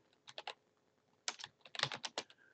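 Keys on a computer keyboard clack in two quick bursts of typing, close and fairly quiet, with a brief pause between the groups of strokes and no voices.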